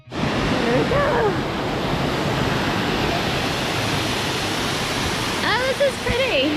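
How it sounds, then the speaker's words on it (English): Steady rushing water from a waterfall along the Kancamagus Highway in New Hampshire, with a breeze, heard while walking up toward the falls. The broadband roar runs continuously, and a voice and brief chirps rise over it. "as we're walking up towards the falls, and the breeze, and you can hear the water"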